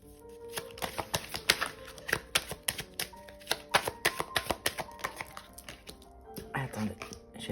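Tarot cards for a reading are shuffled and riffled close by in a rapid run of crisp, papery clicks and slaps, with a softer shuffle near the end.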